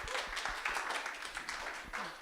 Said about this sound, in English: give round of applause to YT.